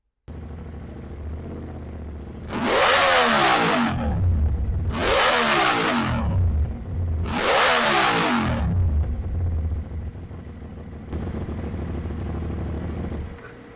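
An Aprilia motorcycle with a crankshaft position sensor fault (DTC P1309) is revved three times to about 8,000 RPM, each sharp close rise followed by a falling return to a steady idle.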